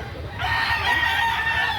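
A rooster crows loudly up close, one drawn-out call over a low background of about 50 chickens clucking and murmuring at a chicken market.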